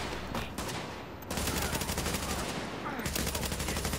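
Sustained bursts of automatic rifle fire in Tom Clancy's The Division, including an RPK light machine gun, loud rapid shots with a brief lull, under occasional voice.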